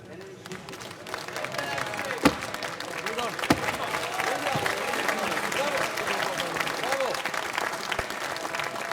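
Applause fills the Hungarian National Assembly chamber during a heated session, a steady wash of clapping with a few sharp louder claps standing out, while voices carry underneath.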